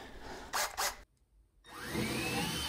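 A couple of short mechanical bursts, a brief silence, then a power drill spins up with a rising whine and keeps running, boring an 11/16-inch hole in a ceiling for ethernet cable.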